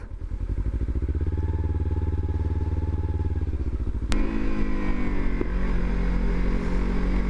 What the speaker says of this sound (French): on a le droit au petit pot d'échappement Akrapovic qui fait des petits P